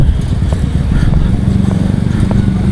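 Motorcycle engines hum and buzz nearby on a town road in Jagna, a steady loud drone with faint voices in the background.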